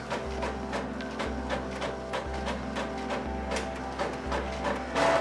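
A Canon PIXMA G-series inkjet printer making copies, a steady mechanical whir with low regular thumps about once a second and faint clicks, running alone.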